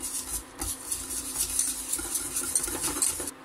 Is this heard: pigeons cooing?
no